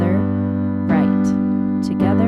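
Piano in the G position, chords in the right hand over single left-hand notes, sustained tones ringing steadily while a voice counts along.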